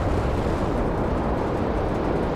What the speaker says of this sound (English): Storms are raging.